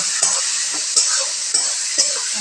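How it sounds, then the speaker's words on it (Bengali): Onions frying in a pan for a goat meat curry, with a constant bright sizzle and a few sharp stirring scrapes at regular intervals, close and loud. "তারপর আমি পেঁয়াজগুলোকে ভালো করে ভেজে নেব"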